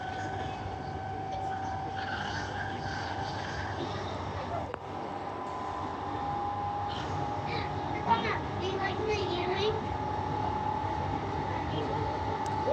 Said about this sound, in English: the Mandurah train just came in